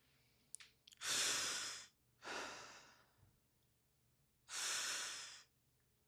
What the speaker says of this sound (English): Two breaths.